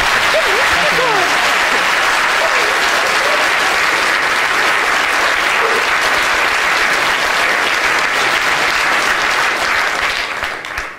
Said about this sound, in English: Can we give a big round of applause for Morgan?